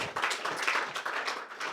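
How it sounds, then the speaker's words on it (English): Applause from an audience at a monthly LinkedIn Local networking event, a dense, steady patter of many hands clapping at close range for the full stretch with no break. "Give these guys a round of applause."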